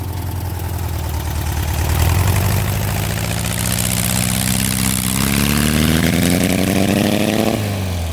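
Engine of a street-legal 1967 Volkswagen dune buggy running close by, a loud, rough buzzing drone that rises in pitch as it revs, then drops back near the end.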